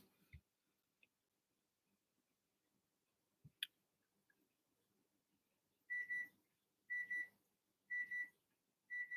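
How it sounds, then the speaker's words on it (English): After a few faint clicks and taps, a kitchen timer goes off with a repeating electronic beep in short bursts about once per second, fairly quiet in an otherwise still kitchen. "that's my timer"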